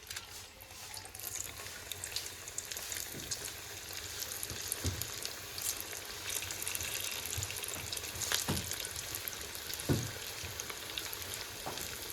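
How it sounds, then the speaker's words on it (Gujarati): Fenugreek-leaf snacks deep-frying in hot oil give a steady, close crackling sizzle throughout, with occasional louder pops and bubbling bursts, and no talking over it. "આપણે તળવાની શરૂઆત કરી દીધી છે"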